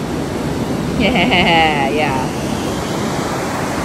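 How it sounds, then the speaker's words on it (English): Strong ocean waves roll onto a beach in Tenerife with a continuous loud wash of surf, a brief voice breaking in over the water near the middle. "It is really strong waves"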